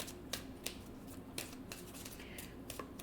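Cards drawn from a Moonology oracle deck: quiet, close papery flicks and snaps, several sharp ones spaced irregularly, with a soft shuffling rustle between them.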